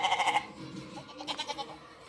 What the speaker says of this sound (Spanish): Una cabra, bien.